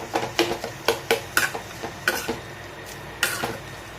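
Onions and tomatoes stirred in a pan, about a dozen sharp metallic clinks and scrapes of a spoon against the pan in an uneven rhythm, close and alone.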